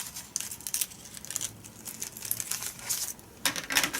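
Paper being trimmed for travel journal pockets, heard as soft crinkling and scraping cuts that come in short uneven bursts, close and fairly quiet, with no talking.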